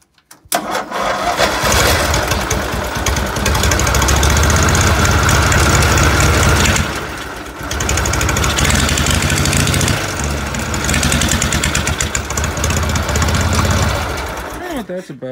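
A small motorcycle engine that smokes badly sputters and catches, then runs loudly with a rough, uneven idle and a brief dip partway through.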